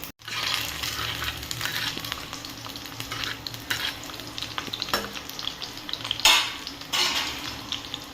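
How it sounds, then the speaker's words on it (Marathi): Steady sizzling of garlic frying in a pan, with occasional scraping stirs and light clinks of a utensil against metal. "या थोड्या 2-3 मिनिट्स आपण फ्राय करून घेऊया"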